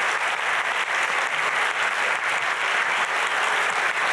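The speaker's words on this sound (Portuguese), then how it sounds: "Uma salva de palmas" Steady, dense audience applause at a literary festival panel, many hands clapping continuously at an even level with no voices over it.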